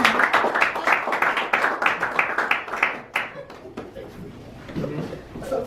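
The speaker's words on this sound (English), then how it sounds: "Let's give her a warm round of applause." Clapping from a Toastmasters club meeting audience, a steady round of applause for the first three seconds that then thins out into scattered claps and murmuring voices.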